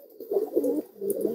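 Racing pigeons at a breeder's loft coo softly nearby, two low, throaty rolling coos with a short pause between them, steady and unaccompanied.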